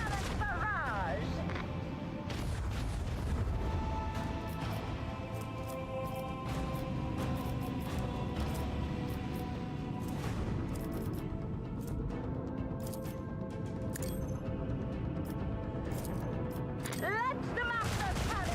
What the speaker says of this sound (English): Initiate massive cannon barrage!